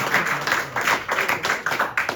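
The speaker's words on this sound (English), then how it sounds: "give him a round of applause" Room applause at a cricket club's awards ceremony for a player, a few seconds of brisk, rhythmic clapping from a modest crowd, fairly close and without speech over it.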